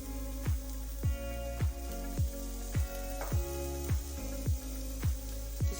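Finely chopped onion frying gently in ghee or oil makes a continuous soft sizzle, heard beneath rhythmic background music with a steady repeating beat.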